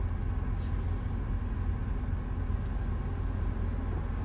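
A car speeds past on a road with fast-moving traffic, its steady low engine and tyre rumble close and loud for the whole stretch with no talk over it.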